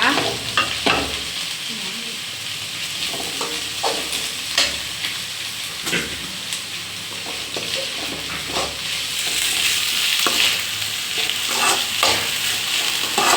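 Chopped onions frying and being stirred in a pan for an egg curry, a steady close sizzle broken by repeated scraping and clatter of the spoon, with no talk.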